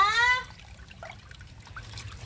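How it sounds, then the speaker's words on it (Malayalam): Water runs steadily as fish tanks are refilled at a fish-rearing site, a low, even trickle close by after a brief whistling tone at the start. "അവർ വെള്ളം മാറ്റിക്കൊണ്ടിരിക്കുന്ന സമയമാണ്"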